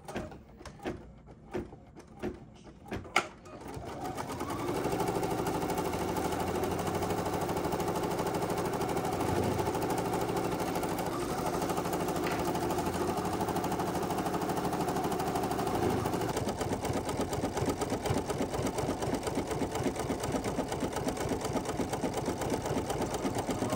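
A sewing machine stitches down an appliqué shape, starting with a few separate taps and then running in a steady, close, continuous mechanical whir that holds for most of the clip.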